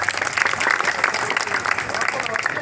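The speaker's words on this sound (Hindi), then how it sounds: "जोरदार तालियां" An audience at a municipal council event in Amroha, India, applauds loudly, sustained dense clapping for almost three seconds, with some voices mixed in.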